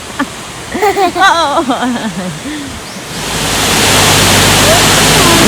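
Sai Yok Yai waterfall in Thailand, fed by springs and flowing all year, sends up a loud, steady rushing roar that swells in after a person speaks briefly.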